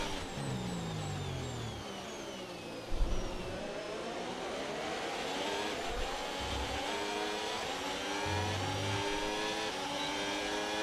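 Formula 1 car engine from the F1 26 game at Bahrain, accelerating with hybrid overtake boost: a steady high-pitched whine climbing through several gear shifts, with brief low thumps between shifts and no talk.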